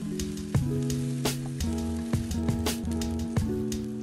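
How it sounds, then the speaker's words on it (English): Vegetables sweating in a pan, cooked alongside a honey mustard ribs dish, give off a soft, continuous sizzle beneath louder background music. "Allow these to sweat for about 5 to 7 minutes"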